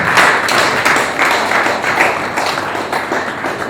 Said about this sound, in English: Please, once again, let us give you a round of applause.